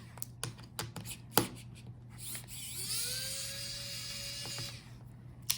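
Small screws are undone from the speakers of an HP Pavilion Aero 13z laptop during a teardown, with quiet clicks and taps followed by the whirring buzz of a small electric screwdriver spinning for a couple of seconds.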